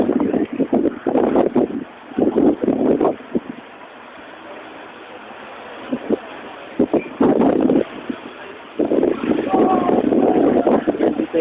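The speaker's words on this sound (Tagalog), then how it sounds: "lakas ng hangin." Strong gusty wind roars outdoors during a whirlwind, buffeting the microphone in loud bursts separated by brief lulls, with people talking in between.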